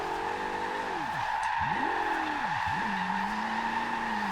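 A Porsche 918 hypercar tuned to over 1400 hp drifts in Forza Horizon 2. The engine revs rise and fall in repeated sweeps through several gear changes, under a constant loud squeal of sliding tires.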